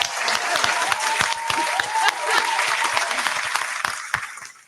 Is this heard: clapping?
yes